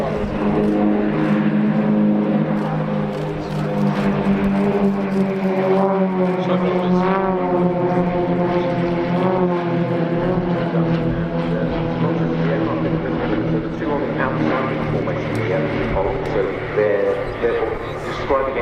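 Four Extra 330LX aerobatic aircraft of the Royal Jordanian Falcons fly formation at an airshow, their propeller engines droning steadily with a shifting whine overhead while a commentator talks throughout.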